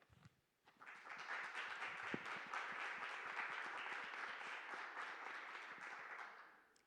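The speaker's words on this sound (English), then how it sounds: "Waiting for the applause to end" An audience at the Millennium Stage of a national performing arts center breaks into steady, sustained applause after a short quiet start, dense clapping holding for several seconds before tapering off at the end.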